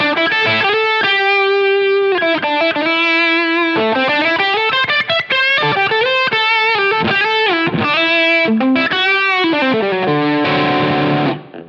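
Heavily overdriven electric guitar through a Line 6 Helix distortion setting, playing a run of sustained notes and bends, loud and saturated throughout, with no talking.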